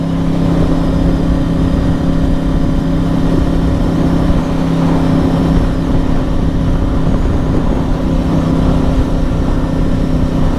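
A Yamaha cross-plane motorcycle engine fitted with a Healtech quickshifter pulls hard during a ride, a loud, close, continuous growl with a steady throbbing hum over heavy wind rush.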